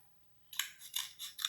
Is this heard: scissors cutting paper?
yes